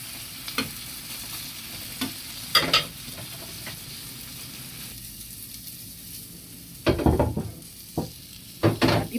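A torta (omelette) frying in a pan after being flipped: a low, steady sizzle broken by occasional clinks and scrapes of a utensil, with a louder cluster of clatter near the end.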